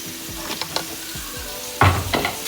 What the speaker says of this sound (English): So right now we got it sizzling.